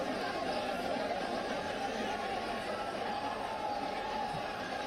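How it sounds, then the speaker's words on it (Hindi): A large, unruly crowd outside Kalibagh cemetery during a funeral, a dense continuous roar of raised voices heard from a distance, blended with a loud reporter's voice. "बाहर जो भीड़ है वो नारेबाजी करती हुई"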